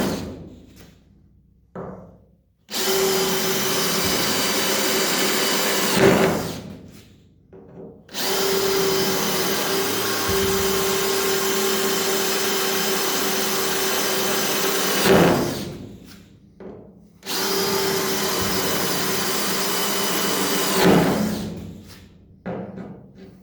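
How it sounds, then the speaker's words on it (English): A power drill with a 1/8-inch bit whines loudly in three sustained bursts of several seconds each, drilling out spot welds, with brief quiet gaps and clunks between them, close up. "I just drill them out with a 1/8 drill bit, each individual one."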